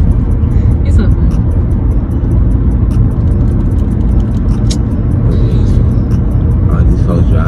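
Cars roll slowly along a road, heard from inside a vehicle as a loud, constant low engine and road rumble, with faint higher sounds on top.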